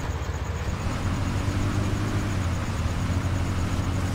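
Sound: truck reversing in video game

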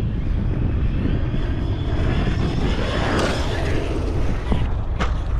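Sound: B-1 bomber aircraft coming in to land

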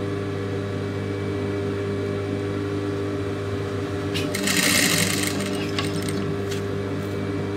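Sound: sewing machine stitching a lace blouse neckline

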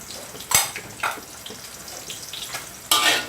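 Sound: dry-roasting chilies and shallots in a pan

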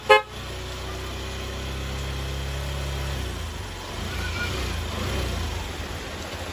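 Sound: Yamaha YTX motorcycle horn honking

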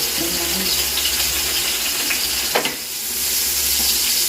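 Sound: onions frying in a pan for biryani

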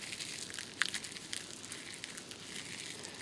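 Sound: handful of leaves being crumpled up

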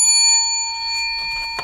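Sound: bell being rung three times

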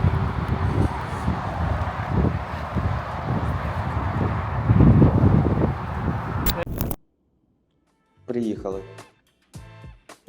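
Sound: wind

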